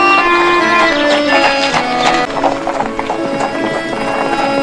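Horse-drawn delman cart with hooves clip-clopping at a steady trot, close and clear, with a brief whinny and faint voices under the hoofbeats.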